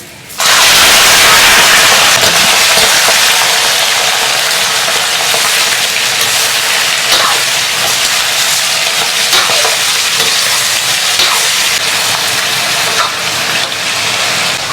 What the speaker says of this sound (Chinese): 多煸炒一会儿，把油给它煸出来。